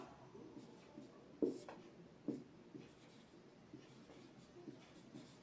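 A pen or pencil writing by hand on paper, with faint, soft scratching strokes and a few slightly louder taps as letters are formed.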